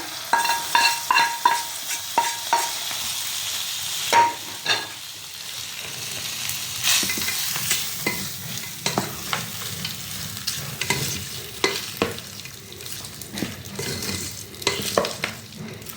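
Cooked rice being stirred with fried tempering, lemon juice and salt in a pan for lemon rice, with a soft steady sizzle under repeated spatula scrapes and taps, busier at the start and end.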